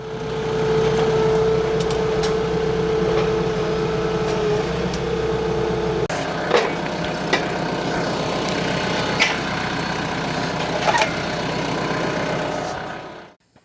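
A farm tractor engine runs steadily with a low, droning hum at a fairly loud, close level, joined partway through by a few clanks and knocks before cutting off at the end.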